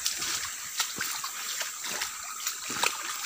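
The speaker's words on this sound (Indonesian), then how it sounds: "ini aliran sungainya" Shallow river stream flowing over rocks, close by, a steady bright rush of trickling water with small splashes and sloshes scattered throughout.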